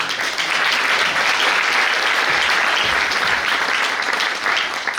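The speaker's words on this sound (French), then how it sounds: "Tu peux te lever aussi Marie, qu'on puisse t'applaudir un petit coup." Loud, dense applause from a seated audience at an evening talk on Vosges forests continues without a break, close and steady, with no voices above it.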